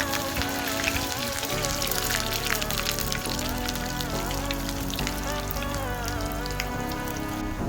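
Chicken rolls shallow-frying in a small amount of oil in a pan, giving a steady close crackle and sizzle throughout, with music-like tonal layers running underneath.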